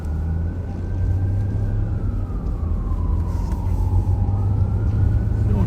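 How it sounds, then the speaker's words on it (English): A siren wails steadily, its pitch slowly sliding down and back up, over loud continuous traffic rumble. "I hear a siren."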